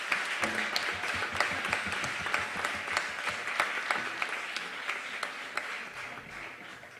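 Circus audience at a festival in a hall applauding a performer, a steady wash of clapping at moderate distance lasting throughout with scattered sharper claps.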